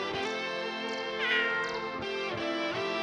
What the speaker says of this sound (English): And this animal is a very popular pet as well. It's a cat.